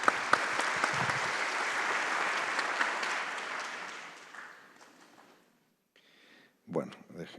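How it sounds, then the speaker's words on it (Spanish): Audience applause at a regulatory quality and administrative simplification congress, steady and fairly loud for about four seconds, then fading out, with a brief burst of sound near the end. "Un aplauso para Víctor Vaca."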